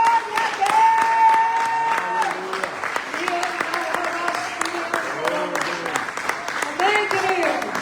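A church congregation applauds in sustained, dense clapping at a festive Purim service, while a voice speaks and calls out loudly over the clapping throughout.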